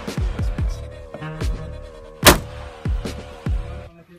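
Gunfire at shooting practice: about seven sharp, loud shots spaced irregularly, one especially strong, with a steady tonal hum between them.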